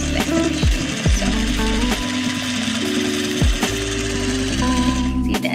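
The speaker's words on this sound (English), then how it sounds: "You fold your fabric and you just let the machine sew." A sewing machine stitching folded fabric at low speed, a close, steady mechanical chugging with rhythmic needle knocks and brief pitch shifts as the speed changes, with no talk.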